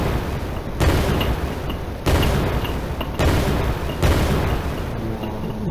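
Repeated booming bursts of enemy gunfire in a video game, four or five heavy blasts spaced about a second apart, each followed by a rumbling tail, loud and close, no voices.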